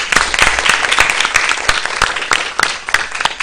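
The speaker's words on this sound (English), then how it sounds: "Let us please give a huge round of applause to our esteemed panel of judges" An audience at a debate final applauds its panel of judges: dense, loud, continuous clapping from a large crowd, with sharper individual claps popping out of the steady wash throughout.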